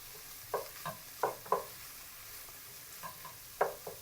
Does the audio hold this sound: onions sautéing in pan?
yes